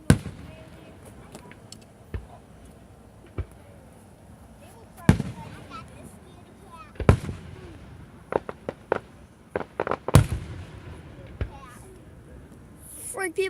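July 4th fireworks explode in scattered sharp bangs, some loud and close, others fainter, with irregular spacing and a cluster of quick pops toward the end, over low background noise and occasional voices.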